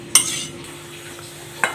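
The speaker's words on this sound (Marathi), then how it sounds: "हे सगळं एकत्र करून थोडंसं अगदी परतून घ्यायचं आहे" A spoon stirs dry fruit powder being sautéed in ghee in a kadhai, with two sharp scraping clinks against the pan over a quiet, steady low background.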